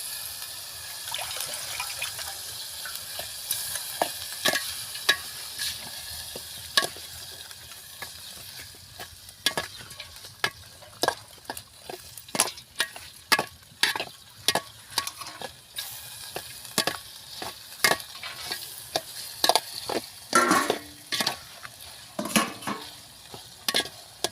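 Washed sprouted moth beans are dropped into a hot pan with a soft wet sizzle. Repeated sharp scraping and clacking strokes follow as they are stirred, denser and louder toward the end.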